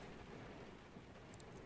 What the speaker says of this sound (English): How hard is that rain coming down?